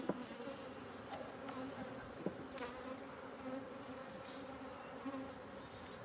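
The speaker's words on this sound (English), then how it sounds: "And then this has a bunch of bees still in it." Honeybees buzz in a beehive at an apiary, a faint continuous drone with a few individual bees flying close by, no voices.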